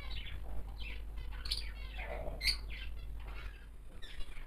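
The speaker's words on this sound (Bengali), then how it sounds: "তো পায়রা বাচ্চাগুলো এখন অনেকটা বড় হয়ে গেছে" Growing pigeon chicks give soft, scattered chirps and squeaky calls, several short peeps spread across a few seconds against low, steady background hum.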